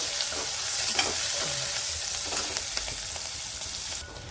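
Salted onions sautéing in a pan for a broccoli bhaji give a continuous, fairly loud sizzle with occasional stirring scrapes. The sound stays steady for a few seconds and then eases off near the end, with no speech.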